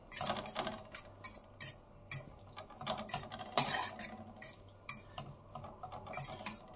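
Pasta finishes cooking in a pan of tomato sauce, with a soft bubbling simmer beneath repeated scraping and clinking of a utensil stirring against the pan, close and fairly quiet, without speech.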